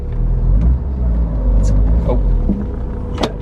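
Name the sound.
Porsche 944 S2 3-liter engine running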